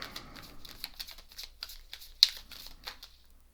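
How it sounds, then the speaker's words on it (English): Tarot cards shuffled by hand in a quiet room, a run of soft riffling flutters and light taps with one sharper snap midway, close and fairly faint. "we're just going to shuffle a bit, get some cards"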